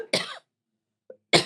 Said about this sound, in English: Of course, the cough would show up now.